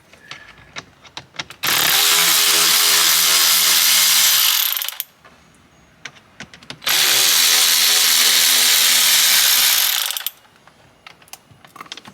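A power screwdriver removing two T15 Torx screws from the gear selector trim of a Mk6 Volkswagen EOS, two loud sustained whirring runs of about three seconds each, separated by quieter clicks and handling noise.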